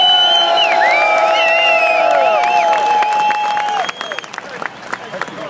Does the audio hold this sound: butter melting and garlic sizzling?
no